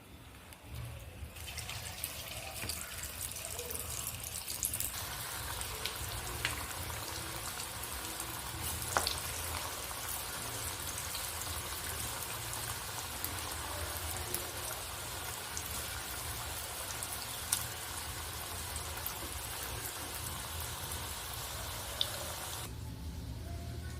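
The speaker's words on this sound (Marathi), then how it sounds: "मंद आचेवर असं हे सगळे वडे आपण तळून घेणार आहोत" Vadas deep-fry in hot oil over a low flame, giving a continuous, even sizzle that holds steady for the whole stretch with no one talking.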